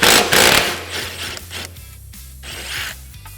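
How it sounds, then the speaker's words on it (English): Ratcheting and clinking of an 18mm wrench and 18mm socket working the sway bar link hardware loose on the driver's side of a Can-Am Commander, close and busy with metallic rubbing and clicks, no talking. "Now we're going to go ahead and remove our sway bar link from our driver's side of our machine. 18mm wrench, 18mm socket."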